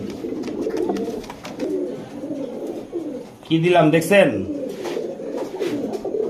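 A pair of high-flyer Giribaj pigeons coo softly and repeatedly nearby, their low burbling running beneath someone talking throughout.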